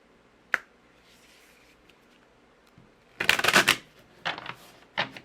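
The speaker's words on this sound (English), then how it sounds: "We're going to pull from this back here, the Awakening Intuition deck. And I'm going to shuffle for you." An oracle card deck is shuffled up close, starting with a single sharp tap, then a quick burst of riffling cards, followed by two shorter flurries in an otherwise quiet room.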